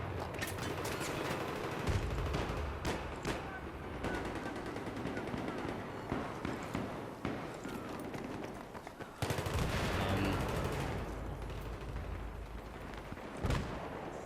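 Pistol gunfire in the video game Battlefield 3, with rapid bursts of shots amid loud explosive battle noise and rumbling, dense and continuous, with a voice talking over parts of it.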